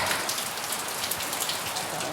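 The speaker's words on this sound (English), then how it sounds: "It's raining now" Rain falls steadily in New England, a soft continuous hiss of drops spattering on surfaces, even and moderately close, with no speech.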